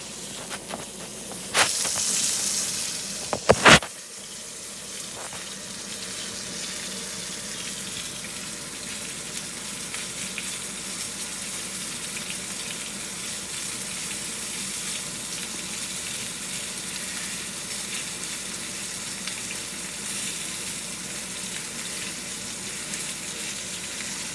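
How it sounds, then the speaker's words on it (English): Steady sizzling and crackling of chicken frying in a pan continues throughout, after a couple of brief clattering knocks near the start. "So I will bring this back over and you can see it frying up."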